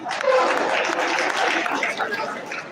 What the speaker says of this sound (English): Everybody clap for microfinance.